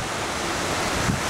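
Flood water in an Aktau street surges in waves against parked cars, a close, steady broadband wash and splash that swells slightly near the end.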